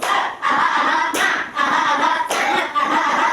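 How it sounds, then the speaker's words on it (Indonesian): A classroom of students performs a rhythmic tepuk semangat clapping cheer in unison, sharp grouped claps in repeating bursts with brief pauses between phrases, close and loud. "sebelum memulai pembelajaran kita tepuk semangat dulu ya"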